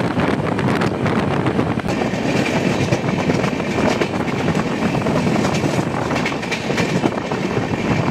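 A train rushing at speed past Thakurkuchi railway station toward Guwahati, heard close up as a loud, continuous rumble with rhythmic clickety-clack of wheels over rail joints and heavy wind noise throughout.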